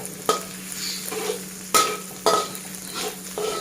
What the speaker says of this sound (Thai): พริกกระเทียมนะคะพริกกระเทียม ใส่ลงไปค่ะ ผัดให้หอมค่ะ